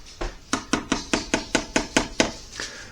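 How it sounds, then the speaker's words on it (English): Shredded paper letters stirred in a container, about nine evenly spaced rustling scrapes and knocks, close and fairly loud, with no voices. "give that a good stir."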